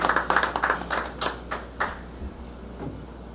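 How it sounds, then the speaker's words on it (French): Scattered clapping from a ceremony audience, a few hands beating quickly at first and then thinning out to isolated claps, fairly close and moderately loud over a low steady hum. "Sous un tonnerre d'applaudissements"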